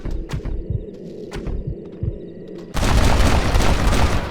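Gunfire in the Red Dead Redemption video game, a few booming thuds, then a sudden dense burst of loud, continuous shooting filling the scene.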